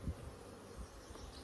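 A soft, continuous buzzing of honey bees close by, low and steady with no voices.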